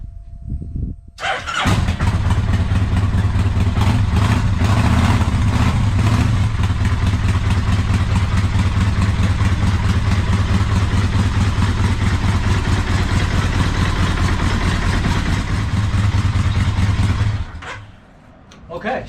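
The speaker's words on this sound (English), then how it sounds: "I'm going to start the bike up and see if everything works." A 2001 Kawasaki Vulcan Nomad 1500cc motorcycle, just fitted with new ignition coils, cranks and fires up, then settles into a steady, loud, rumbling idle for about fifteen seconds before cutting off.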